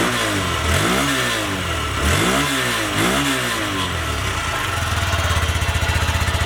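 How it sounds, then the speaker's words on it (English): Up close, a Honda Grom motorcycle with a new exhaust is revved three times, each rising and falling sharply. It then drops back to a steady pulsing idle. "We're gonna go ahead and give it a couple revs."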